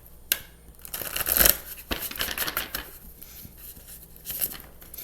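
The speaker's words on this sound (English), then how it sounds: "let me shuffle these again" A deck of tarot cards being shuffled by hand, with crisp riffling and flicking bursts that come in uneven clusters, close and fairly loud, with short pauses between handfuls.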